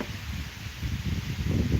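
Strong wind gusts buffet the microphone outdoors, a continuous low rumbling roar that builds in strength toward the end, with no voices.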